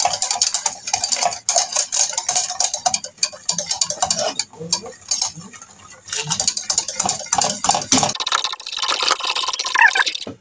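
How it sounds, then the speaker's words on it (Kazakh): Milk is slowly stirred into cream in a bowl, with a utensil scraping and clinking against the sides in steady, close, irregular strokes and a short pause partway through. "Жаймен деп араластырамыз."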